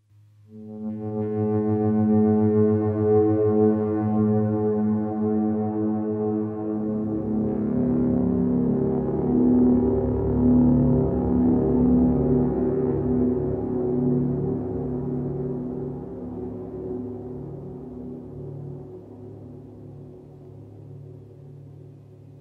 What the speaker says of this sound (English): It's a pretty good start for a drone sound, but for making it more interesting, I'm going to let the signal go through these effect units.